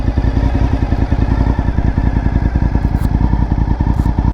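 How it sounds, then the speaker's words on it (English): A Honda RC51 motorcycle engine idles close and loud, a steady, rapid, lumpy pulsing throb that holds unbroken throughout. "I mean, just listen to this bike"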